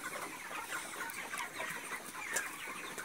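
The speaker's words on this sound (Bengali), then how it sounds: "দেখে মনে হচ্ছে অনেক মুরগি আছে, 3500 বেশি হবে।" A big flock of more than 3,500 chickens in a long poultry farm shed makes a steady, dense clucking and chattering, soft and spread all around with no talk.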